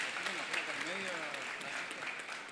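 Audience applause at a design biennial event in Córdoba, a steady wash of clapping with a voice speaking over it throughout.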